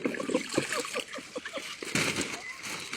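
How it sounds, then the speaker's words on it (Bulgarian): Mineral water splashing and pouring over potatoes being prepared, a soft, brief sloshing that sits under a man's close speech. "Сипва се от минералната вода."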